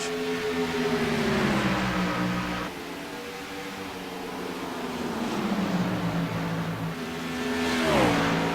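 Race cars on the oval at Darlington Raceway roar loudly as they accelerate, engine pitch sliding down and then climbing again as they pass, with a steady mechanical drone between the swells.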